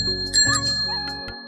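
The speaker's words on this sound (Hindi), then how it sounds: "साइकिल रोकती है और घंटी बजाती है" A bicycle bell rings in a few bright, clear dings, close and loud, as a rider stops outside a village house, with a steady low hum underneath.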